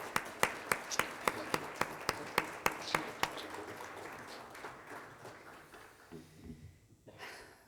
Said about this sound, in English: Can we all just give him a big round of applause?